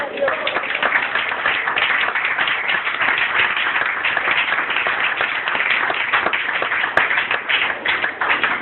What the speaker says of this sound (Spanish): ¿Cuánto pueden aplaudir a la palabra?